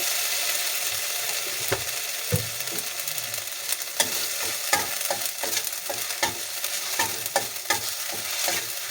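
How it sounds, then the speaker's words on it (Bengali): Ginger paste frying lightly in a pan for a vegetarian vegetable dish: a steady close sizzle broken by repeated sharp scrapes and taps of a spatula stirring. "আমি আদা একটু পেস্ট দিয়ে দিলাম। হালকা হাতে ভেজে নেব।"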